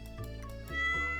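A short video-game cat meow plays in Stardew Valley as the farm cat is petted, a brief tonal call rising and settling over about a second, heard alone without talk.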